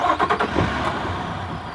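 An Infiniti WX60 with a faulty alternator cranks in a few quick rhythmic pulses, then catches and settles into a steady idle, close and moderately loud with no talk.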